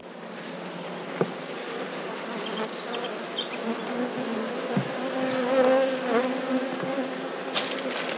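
Honey bees buzz around an open, struggling hive, a dense continuous drone close by, with individual bees whining past and a few soft knocks from handling frames.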